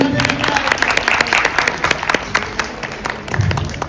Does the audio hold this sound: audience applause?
yes